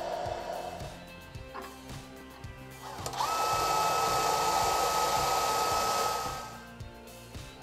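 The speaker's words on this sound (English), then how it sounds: "it's time to make this bar stock into tube. We do that with the milling machine. Let the chips fly." A milling machine cuts bar stock into tube for a fuel cell build, with a steady mechanical whine and a faint ticking rhythm, and it rises to a louder sustained cutting roar midway before easing off.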